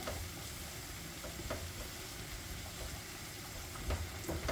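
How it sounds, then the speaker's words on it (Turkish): Onions fry in a pot for yogurt soup with minced meat, giving a steady close hiss of sizzling oil broken by light stirring clicks and scrapes, with no voices. "Soğanımız iyice kavrulacak. Pembeleşesine kadar kavrulacak soğanımızı."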